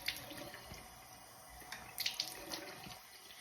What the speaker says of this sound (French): comme n'importe quel savon, on va rincer. Donc moi j'aime bien faire avec de l'eau directement.